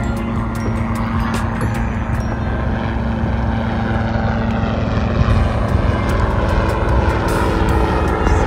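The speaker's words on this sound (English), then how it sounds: "Ooh, there's a helicopter." A steady, loud helicopter engine drone fills the air throughout, a continuous rotor-like roar with no voices, near Lake Annecy in the French Alps.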